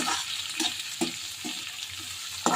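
Chopped onions and green chillies frying in a pan, sizzling steadily up close while a spoon stirs and scrapes in a loose rhythm of soft knocks, with no voices.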